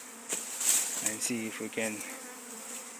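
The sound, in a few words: honey bees during hive removal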